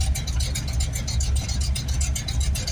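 Car engine idling steadily after a tune-up with an MSD Pro billet distributor, a constant low rumble with a rhythmic ticking pulse that stays even throughout, close and fairly loud, with no voices.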